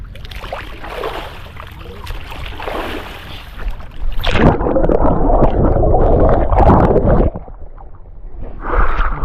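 Churning river water at Babughat, Kolkata, where someone bathes in a strong current, produces loud sloshing and gurgling splashes close by, rising into a heavy rush midway and then surging again at the end.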